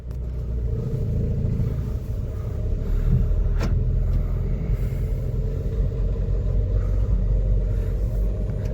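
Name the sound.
Renault Lodgy car driving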